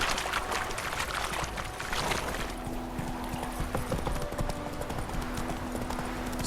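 Geralt's horse Roach trots in The Witcher 3, a quick, even clip-clop of hooves on the ground with soft game ambience and a faint sustained tone underneath.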